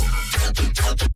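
A synthesizer pad from the Chimera plugin pulses in four rhythmic swells with a deep bass thump on each, then stops suddenly.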